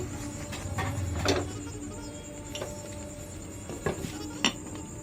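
A metal lid clinks down over a pot of Barishal-style khud pulao set on low heat, with several sharp, close clanks and taps of cookware against a quiet kitchen background and a faint steady hum.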